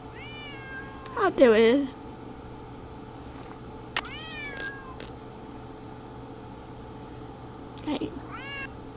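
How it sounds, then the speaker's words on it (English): Yuri the cat in a Nancy Drew Secret of the Old Clock video game meows several times, with one long drawn-out meow and shorter ones spaced apart, alongside a brief spoken line. "Otherwise, he'll just keep meowing."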